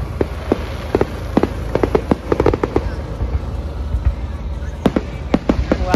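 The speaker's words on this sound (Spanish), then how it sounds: "y en el momento que empiezan los juegos artificiales." Fireworks bursting at a park in Florida, with scattered sharp pops and crackles, some in quick clusters, heard at a distance over low crowd murmur.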